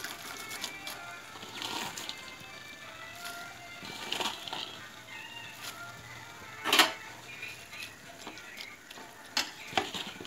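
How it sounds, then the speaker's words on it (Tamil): Banana flower being stirred in a spiced curry in a pan, with soft scraping and stirring strokes and a few sharper clinks over a steady low sizzle, close and moderately quiet. "நல்லா கிளறி விட்டு ஒரு கொதி வரணும்."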